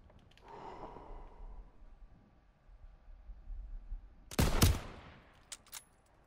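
A single sharp gunshot in the video game Call of Duty: WWII, a loud close crack standing out from quiet background, followed by a couple of fainter distant shots; no talk.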